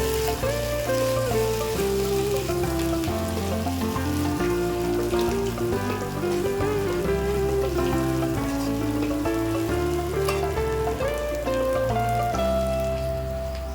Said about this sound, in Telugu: ఈ అల్లం వెల్లుల్లి పేస్ట్ మనం పచ్చివాసన పోయేంత వరకు ఫ్రై చేసుకోవాలి.